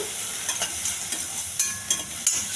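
Spices sizzle in hot oil for a rajma tempering, a steady close crackle broken by several soft stirring scrapes at irregular intervals.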